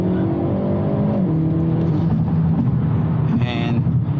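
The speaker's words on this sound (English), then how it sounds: "We're going to actually do a brake boost pull." A tuned Hyundai Elantra N with a water/meth kit launches hard from a brake boost, its engine roaring loudly and climbing in pitch through the revs, with a voice speaking over the pull.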